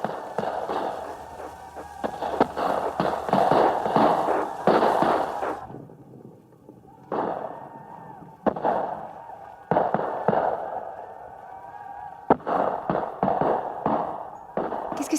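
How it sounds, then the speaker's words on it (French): Gunfire volleys in a radio drama crack out in bursts of rapid sharp shots, loud and close, broken by brief pauses and then renewed salvos with single reports. "Qu'est-ce que ça veut dire, cette fusillade, Fulbert?"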